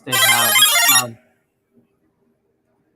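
A mobile phone ringtone plays a loud, bright melodic burst for about a second, then cuts off into silence.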